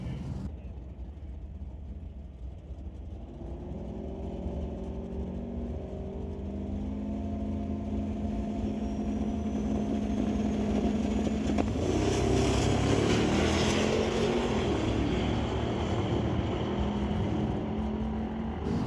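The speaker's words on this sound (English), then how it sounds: "You heard the turbo spooling" A turbocharged car at a street-legal drag night at Mission Raceway Park builds a rising engine roar with a climbing whine that swells from moderate to loud over many seconds, heard from trackside over steady crowd noise.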